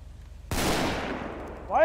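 A single sharp gunshot from a Call of Duty roleplay game cracks out abruptly and decays into a reverberant tail, with a brief voice sound at the end.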